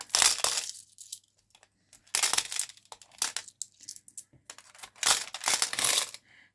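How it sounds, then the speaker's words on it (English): Coins dropped one after another into the slot of a money box envelope, landing in several separate bursts of rattling, clinking metal, fairly close and with no talk over them. "I will diligently put the money into the little envelope slot"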